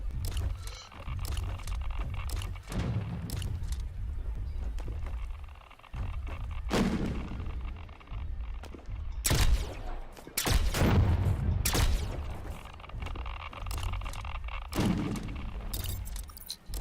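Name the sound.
gunshots in the video game The Signal From Tolva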